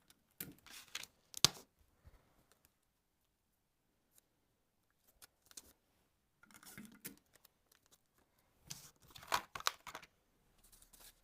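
Tape is torn off a roll in short bursts of ripping and crinkling during card making, with several separate tearing sounds spread out between quiet gaps, close and fairly soft.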